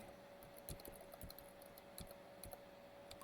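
A computer keyboard is tapped in short, sparse clusters of quiet key clicks, close and faint over a steady low hum, with no one talking.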